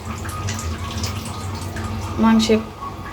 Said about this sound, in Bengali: মাংস কাটতে থাকুক, আমি এখানে মুগ ডাল ধুয়ে নিই।